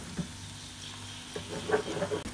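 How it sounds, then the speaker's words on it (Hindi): Onions frying in oil over a medium-high flame for Egyptian koshari, a soft steady sizzle with occasional stirring scrapes and clicks, close and fairly quiet. "इसके ऊपर हम प्याज को फ्राई करेंगे।"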